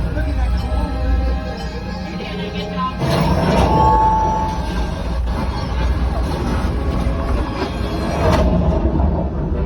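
A train rumbles loudly and steadily through the Millennium Falcon Smugglers Run ride, with a surge of noise around the middle and a sharp burst near the end, mixed with crowd babble.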